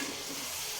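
Mutton curry being stirred in a pan gives a brief, steady sizzle with a soft scraping texture, close and alone, with no voices.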